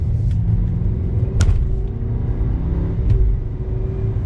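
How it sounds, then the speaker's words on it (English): A 2021 Mercedes-Benz S 580 picking up speed on the road, its quiet engine a low smooth rumble rising gently from inside the cabin, with no voices. "we're gonna give it a little bit of gas here and see how quickly this gets up"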